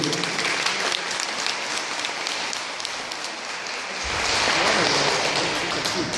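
A crowd applauds students who have passed their yellow belt martial arts grading, dense steady clapping throughout that swells louder near the end, with a voice briefly mixed in.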